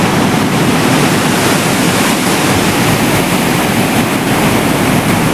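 Water roaring through Bhimgoda Barrage in Haridwar: a loud, close, unbroken rushing roar that fills the whole stretch, with some wind buffeting the microphone.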